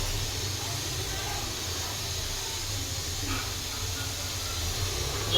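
Oil hissing steadily as it is poured into a preheated iron kadai, a continuous broadband sizzle close by with no voices.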